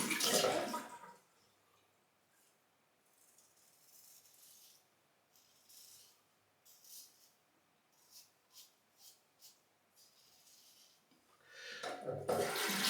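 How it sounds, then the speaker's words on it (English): A tap gushes briefly for rinsing after a shave, then cuts off, leaving near silence with a few faint knocks before the water runs again at the end. "Rinse as well."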